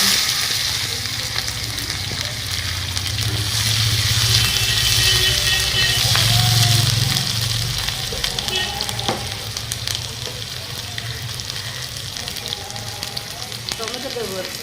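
Onions and dried red chili fry in a hot pan, a steady dense sizzle throughout with occasional stirring scrapes; no talk, the frying swells louder in the middle then settles.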